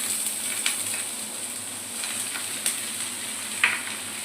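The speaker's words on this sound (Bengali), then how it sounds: "পেঁয়াজটা একটু ভাজা ভাজা হয়ে গেলে আমি অ্যাড করবো সবজিগুলো।" Onions frying in a pan before carrots, potatoes and other vegetables go in, a soft continuous sizzle with a few sharp spatter pops, close and alone with no talking.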